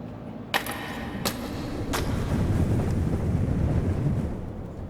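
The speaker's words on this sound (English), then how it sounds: "The broken window is letting in a piercingly cold wind." Piercingly cold wind blows through a broken window of a school at night in the horror game Death Mark, a steady low rushing wind that swells gently, with a few sharp clicks near the start.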